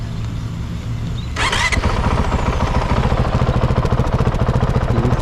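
A stock dirt bike engine starts up close by, then runs with a loud, rapid, rhythmic putter that stays steady to the end.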